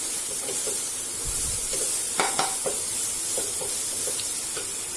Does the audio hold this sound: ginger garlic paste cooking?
yes